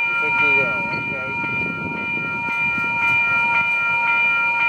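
An MBTA eastbound commuter train passes the Main Street crossing in Ashland, with steady rail rumble and crossing bell tones ringing throughout, while people talk nearby.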